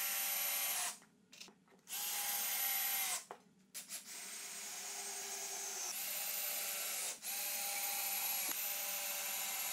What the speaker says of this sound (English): Where the lines intersect, I drilled a 3/8 inch hole on each leg.